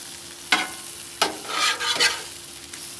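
Smash burgers sizzle steadily on a 22-inch Blackstone griddle, a close hiss punctuated by a few sharp scraping spatula strokes, with no voices.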